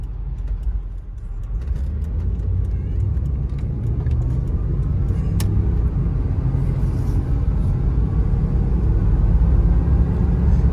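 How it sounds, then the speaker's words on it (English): A 1991 Chevrolet Blazer SUV's engine rumbles steadily from inside the cab as it drives, low and continuous road noise that grows slightly louder over time. "go out and get a test drive here for you in the Blazer"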